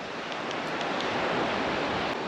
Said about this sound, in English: all you can hear is the sound of the waves as they hit the shore here